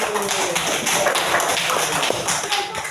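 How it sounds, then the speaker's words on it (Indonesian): Schoolchildren in a classroom clap together after a lesson, a brisk, somewhat ragged run of hand claps and taps close by, with faint voices underneath. "Terima kasih. Tepuk tangan dulu."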